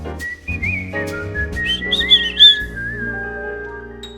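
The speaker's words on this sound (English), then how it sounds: "Oh my God, she whistles too." A woman whistles a bright, wavering melody in a recording of a jazz song, the clear tones rising and falling over soft instrumental backing.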